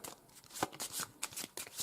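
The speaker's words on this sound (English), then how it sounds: "shuffle the spell deck" Spell card deck from a board game being shuffled by hand, a close run of crisp papery riffles and flicks in uneven bursts over about two seconds.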